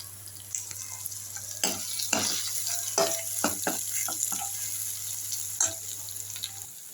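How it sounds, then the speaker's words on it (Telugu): Onions fry in a pan with freshly pounded ginger and garlic, sending up a steady close sizzle broken by sharp clinks and scrapes of stirring. "ఉల్లిపాయలు వేగుతున్నాయి కదా"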